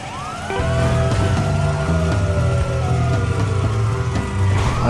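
Several police car sirens wailing loudly at close range in GTA 5 during an emergency services vehicle chase, overlapping rising and falling tones layered over engine rumble.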